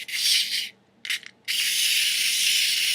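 A wind-up BattleBots Mechadon McDonald's toy running, its clockwork mechanism giving a close, raspy whirring buzz in two bursts, a brief stutter, then a long steady run.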